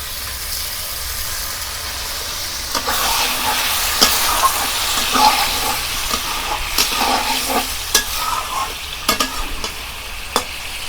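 Spice paste for a Bengali tel koi fish curry stir-fried in hot oil: a steady close sizzle with repeated scraping and stirring strokes, continuous throughout with no voices.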